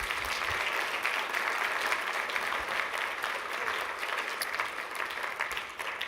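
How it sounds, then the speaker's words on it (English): An audience at a closing session of a business conference in Singapore applauds steadily, a dense, even clapping that holds for several seconds and fades slightly at the end. "I think that deserves a round of applause."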